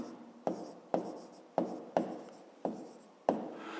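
Pen writing on paper while a fifth-grade maths exercise is worked through, six short scratchy strokes at an uneven pace, close and fairly quiet with nobody talking.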